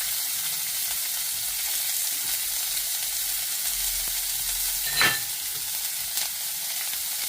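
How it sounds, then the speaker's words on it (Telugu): Onion pieces fry in hot oil with drumstick for a milk-based curry, a steady close sizzle broken by one brief, sharp burst of crackle as more pieces hit the pan. "కొంచెం లైట్గా దోరగా వేగిన తర్వాత ఇందులో ఉల్లిపాయ ముక్కలు వేసేస్తున్నానండి"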